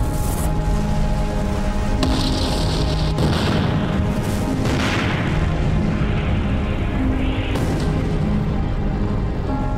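A deep, sustained blast and rumble from the 1946 scuttling of a WWII Imperial Japanese Navy submarine, sunk in deep water. The roar stays loud and continuous throughout, with no voices over it.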